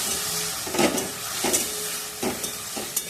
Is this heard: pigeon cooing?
no